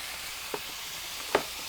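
Vegetables being stir-fried in a pan for Thai pad pak ruam mit, a steady low sizzle with two brief louder scrapes or tosses, no talking.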